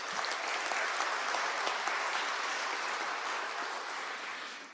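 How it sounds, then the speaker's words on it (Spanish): An audience at a public employment and pension reform event applauds the arriving vice president of the Senate, a dense, even wash of clapping held steady from start to finish, heard at a moderate distance. "Pido un aplauso para él."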